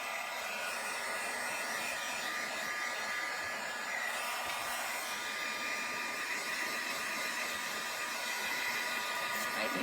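A hair dryer blows steadily and loudly close by, a constant airy whoosh with a faint motor hum and no breaks.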